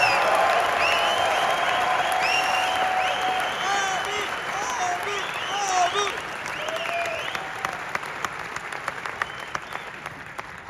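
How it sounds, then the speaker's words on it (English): A theatre crowd at Meridian Hall in Toronto applauds during a live interview event, broad clapping mixed with cheers and whoops that slowly dies down into scattered claps near the end. "a warm round of applause for the greatest in the world"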